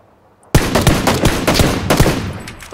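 A rapid string of automatic gunfire in PUBG erupts after a brief quiet, with sharp repeated shots closely spaced and loud for over two seconds.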